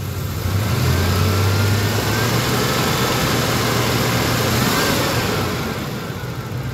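A Ford Ranger engine with a failed alternator is revved, a loud close roar held steady for several seconds before easing back down toward idle.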